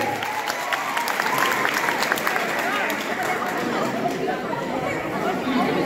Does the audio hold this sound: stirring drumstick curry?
no